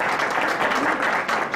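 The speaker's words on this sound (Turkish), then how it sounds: "Alkışlarımızla" Steady, dense applause from an audience at a village association youth gathering in Gebze, loud and even throughout with no voices breaking through.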